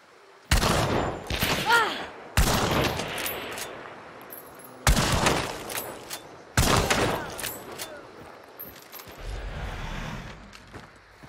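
Sniper rifle fire in Hunt: Showdown: four loud, sharp shots spaced a couple of seconds apart, each followed by a long echoing decay, with metallic clinks and rattles between them.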